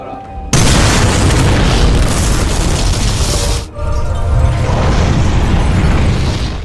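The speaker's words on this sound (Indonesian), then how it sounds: "serangkaian bom diledakkan secara beruntun yang menyebabkan hancurnya fasilitas di rumah sakit" A series of bombs exploding in a hospital, a sudden loud boom that becomes a long, roaring, rumbling blast, briefly dips, then roars again with debris and crackling.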